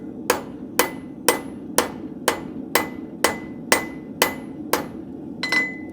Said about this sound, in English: use the round side of my rounding hammer